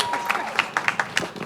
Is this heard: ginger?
no